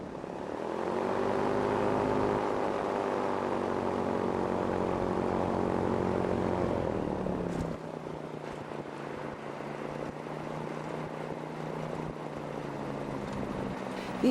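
A light sport two-seater propeller airplane drones steadily with a buzzing engine, then its pitch drops partway through as it passes and the sound fades somewhat, with no talk.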